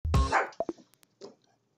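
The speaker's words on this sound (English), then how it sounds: "What are you guys barking at?" Dogs give a couple of short, close barks with a brief whimpering yip after, sharp bursts separated by quiet gaps.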